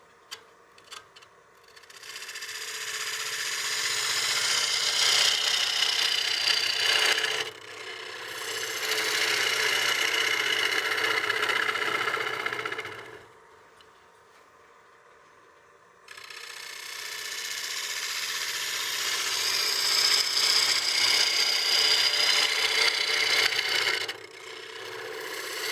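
A gouge cuts a wooden platter spinning on a lathe, a loud hissing, scraping shear in three long passes separated by quieter gaps while the lathe hums beneath.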